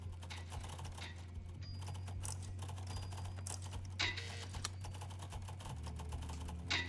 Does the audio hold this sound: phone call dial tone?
no